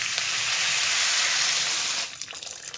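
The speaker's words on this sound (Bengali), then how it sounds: "এবারে আমি জল দিয়ে দিলাম" Water poured into a pan of simmering Bengali curry with hog plums and taro hisses in a loud, steady sizzle for about two seconds, then drops off into fainter bubbling and spatter.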